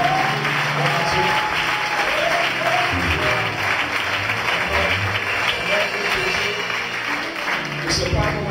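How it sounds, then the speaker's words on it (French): Steady, dense applause from a church congregation fills the room throughout, a continuous wash of many hands clapping with voices mixed in underneath. "On peut acclamer très fort le Seigneur."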